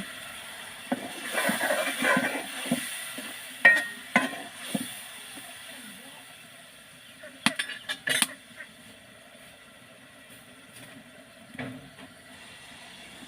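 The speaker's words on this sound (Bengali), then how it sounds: "পরিমাণ মতো পানি দিয়ে মশলাটি কষিয়ে নিচ্ছি" Spice paste with bay leaf, cinnamon, cardamom, chilli and coriander powder is sautéed with water for beef biryani: faint, quiet sizzling broken by scattered clinks and scrapes of a spoon against the pan.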